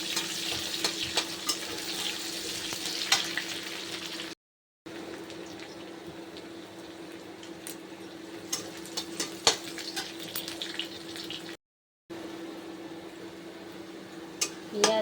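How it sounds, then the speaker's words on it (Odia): Onions frying in a pan until golden make a continuous hiss with a steady background hum, broken by occasional stirring scrapes and two brief dropouts. "ଗୋଲ୍ଡେନ୍ କଲର୍ ହେବା ପର୍ଯ୍ୟନ୍ତ ଆମେ ତାକୁ ଭାଜିବା।"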